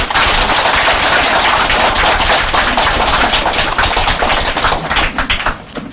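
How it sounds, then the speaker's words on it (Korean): An audience applauds at a health lecture as the chairman is welcomed on stage, a loud, dense, continuous clatter of clapping that thins out near the end. "김윤수 회장님 모시겠습니다. 박수 부탁드리겠습니다."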